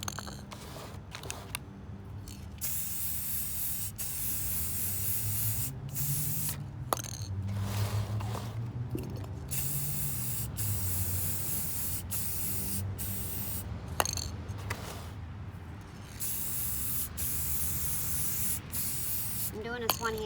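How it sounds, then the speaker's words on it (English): Rose gold spray paint hisses steadily from a can onto a tumbler for about twenty seconds, nearly continuous with a few brief pauses, while someone talks over the spraying. "And then we're just going to spray it."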